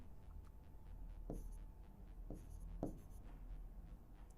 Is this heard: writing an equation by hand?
yes